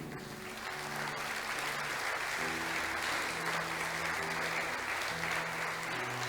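Sustained applause from a church congregation at a Spanish-language Christian service, many hands clapping continuously and evenly at moderate loudness over a soft sustained organ or keyboard chord.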